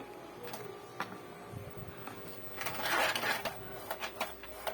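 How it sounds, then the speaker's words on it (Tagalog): An Epson L110 inkjet printer with a double-image fault at work, with clicking and ticking mechanism sounds and a louder whirring pass in the middle, close up with no talking. "Medyo nahihirapan na yung printer."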